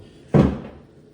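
An interior European-style door bumps against its frame once, a single short, dull wooden knock close by, fading quickly into quiet.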